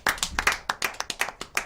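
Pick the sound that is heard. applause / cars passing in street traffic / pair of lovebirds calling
applause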